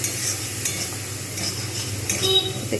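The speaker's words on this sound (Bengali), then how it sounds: "এবারে এতে আমি আরেকটু ভালো করে কষে নেবো মশলা" Spices for a hilsa oil-chili curry are stir-fried in a pan, a close sizzle broken by scraping spatula strokes and light metal clinks against the pot.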